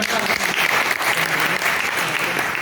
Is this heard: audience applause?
yes